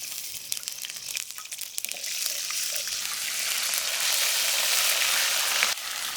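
Whole spices with ginger paste frying in hot ghee, a steady, close sizzle that grows louder and fuller after the first couple of seconds, with faint scraping of stirring at the start.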